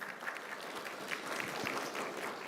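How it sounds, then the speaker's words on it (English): A round of applause from the audience at a workshop, a continuous dense patter of many hands clapping, moderately distant and fairly quiet, with no talk on top. "We can give you a round of applause,"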